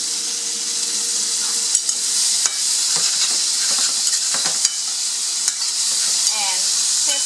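Mushrooms and cherry tomatoes sizzle steadily in a hot pan, seasoned with cracked pepper and salt, as a continuous hiss with occasional light scrapes and knocks from the utensil.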